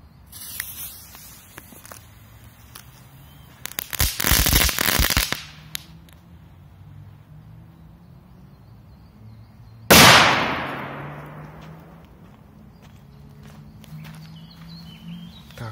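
A Korsar 4 firecracker with an effect goes off outdoors: a dense crackling burst lasting about a second, then later a single sharp, loud bang whose echo trails away over several seconds.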